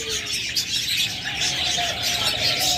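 Cockatiels, kept alongside doves in a bird-selling setting, chirp and whistle continuously at close range, with sharp bright calls over a dense background of other birds.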